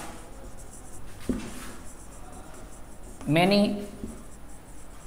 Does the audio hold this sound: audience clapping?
no